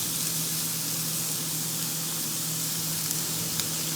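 Vegetables, including big chunks of onion, sauté in hot oil in a pan, giving a steady, loud, even sizzling hiss that holds without a break and has no voices over it.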